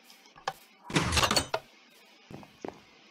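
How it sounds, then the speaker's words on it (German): A door in the video game Minecraft opening and closing, with a soft click, then a louder wooden thunk of about half a second, followed by a few lighter knocks, all quiet and close with no talk. "Ja, so eine Tür kennt man ja auch."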